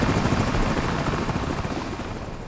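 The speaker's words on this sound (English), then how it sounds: "Is that a helicopter after me?" A helicopter chasing the player in American Arcadia produces a loud, steady rotor roar with dense broadband thumping that fills the whole moment without a break.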